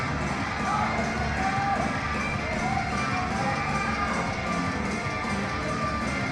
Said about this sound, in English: And he's got a whole crowd here rooting for him.